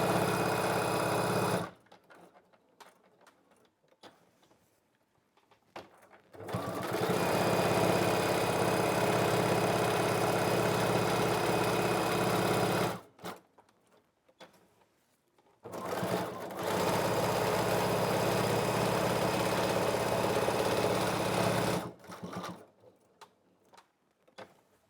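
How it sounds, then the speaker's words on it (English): Sewing machine top stitching a fabric hot pad close to the edge, running in two long continuous bursts of steady whirring, separated by quiet pauses with faint handling sounds. "top stitch about 1/8 of an inch away from the outside edge so that we can catch everything"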